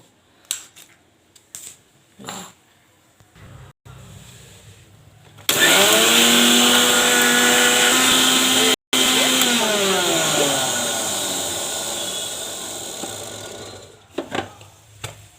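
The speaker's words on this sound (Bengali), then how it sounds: "এবার আমি মিক্সচার মেশিনে মিক্স করব।" A mixer grinder blending a fried chilli mixture whirs loudly and steadily for about nine seconds with one brief cut and a gradual fade, between short knocks and handling sounds.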